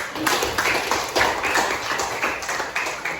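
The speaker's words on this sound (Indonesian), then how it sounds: "Oke, aplaus dulu" A class claps briefly for a student after a lesson on the Hajj pilgrimage, a short burst of hand claps close by.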